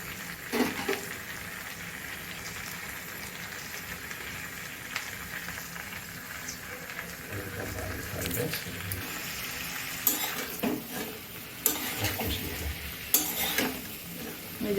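Chopped onion, crushed ginger and garlic and tomato fry in a pan with a soft, steady sizzle, broken by louder scraping and clanking bursts of stirring in the second half.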